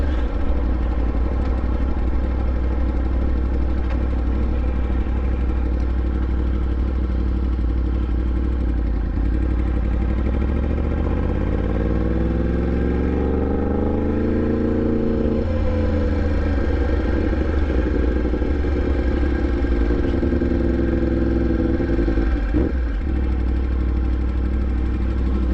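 A Yamaha MT10 motorcycle fitted with an Austin Racing exhaust runs steadily, a loud, close, continuous engine drone with a rising rev sweep midway that falls back to a rumbling idle, no talk over it.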